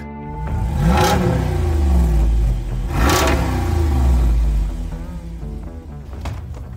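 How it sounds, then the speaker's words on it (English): A Jeep fitted with a 392 muscle-car V8 revs hard twice, each blip rising to a loud, deep roar before settling back to a rumbling idle, close by. "This is a muscle car engine in a Jeep."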